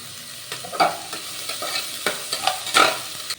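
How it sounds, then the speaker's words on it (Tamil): Onions and green chillies sauté in hot oil for mutton biryani, a soft steady sizzle broken by close, irregular scrapes and clinks of a spoon stirring the pan. "வெங்காயம் நல்லா பொன்னிறமாக வதங்கட்டும்."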